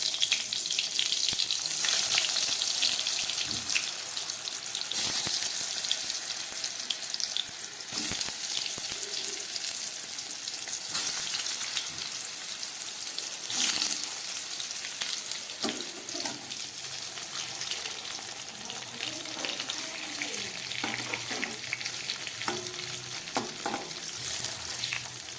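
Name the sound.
pointed gourds (potol) frying in mustard oil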